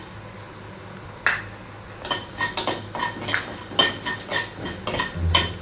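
Coriander seeds dry-roasting in a pan for pani puri masala, with repeated scraping and clinking of a metal spoon against the pan in irregular bursts, close and moderately loud, preceded by a quieter pause.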